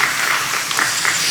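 Church congregation applauding at a special Holy Week dawn prayer service, a steady wash of clapping that stays even and fairly loud for the whole moment, with no voices over it.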